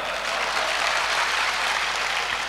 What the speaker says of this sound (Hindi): ताली बजाओ 3 आवाज पर